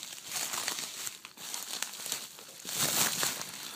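Crinkly plastic packaging around an Arduino board being pulled open up close, a continuous rustling and crackling that swells louder near the end.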